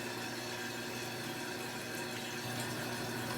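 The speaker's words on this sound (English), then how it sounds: "Flush is good. Starting to fill back up." A toilet tank refilling with water after a flush gives a steady, close rushing and hissing of water flowing in without pause, and no one speaks.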